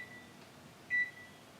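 A microwave oven's control panel gives a single short beep when the microwave mode button is pressed, faint against a quiet room hum.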